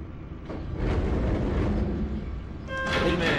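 A Kosei Line 485 series Raichō express departing Tsuruga in a train simulator game rumbles as it pulls away, low steady rolling noise building slightly, with a faint tonal whine near the end.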